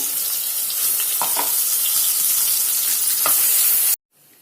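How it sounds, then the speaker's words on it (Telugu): Ground onion masala fries in oil for an eggplant curry, a loud continuous sizzle with occasional scraping stirs, stopping suddenly near the end. "ఇప్పుడు మనం ఇది మిక్సీ పట్టుకున్న మసాలంతా ఈ నూనెలో మనం మంచిగా వేయించుకోవాలి"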